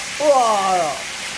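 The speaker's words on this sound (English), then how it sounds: "When you use the wok, you have to listen to the oil" A short burst of lobster sizzling in hot oil in a wok rises and fades over about a second, with a brief tonal squeal riding on top of the hiss.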